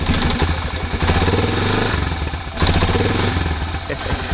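An ATV engine idling and revving with no gas tank fitted, not yet warmed up, running close and loud with a clattering rhythmic pulse that rises and dips twice.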